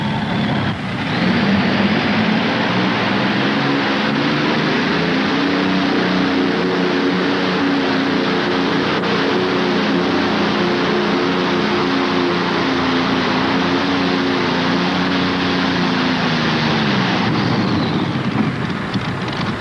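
A modified pulling tractor with an Allison engine screams at high RPM on the track at the 1988 NFMS event in Louisville, Kentucky, a loud sustained roar with steady harmonic drone, holding for about sixteen seconds before cutting off.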